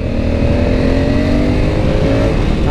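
A motorcycle engine revs hard and accelerates, a loud, close, continuous roar with rising harmonic pitch holding throughout.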